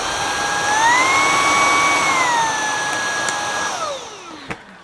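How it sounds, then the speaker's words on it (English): A Shark IZ202UK cordless vacuum cleaner runs on Max suction with a loud, steady high whine that rises in pitch, holds, then drops away as the motor winds down, followed by a single click. "that will increase the suction if you've got an area that just needs that little bit of extra suction"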